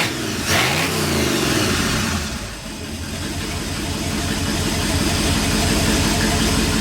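A 1959 Ford F100 special delivery engine runs loud and close after a carburetor adjustment, a steady rumbling idle with a brief rev early on that settles back into an even, throbbing run, with no talk.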